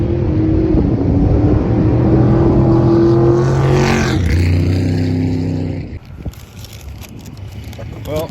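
A lowered Acura Integra race car revs and accelerates hard on its first track day run, the engine note climbing steadily for several seconds before dropping off, with a person talking over it.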